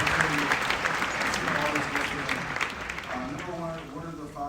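Applause from an audience filling an arena at Madison Square Garden during a live business show, a steady dense clatter of clapping hands that holds for several seconds and fades slightly at the end, with a voice faintly over it.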